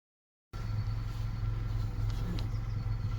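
A VW Polo engine runs steadily, a low even idle hum with a slightly uneven note, starting abruptly after a brief silence and continuing alone at moderate level.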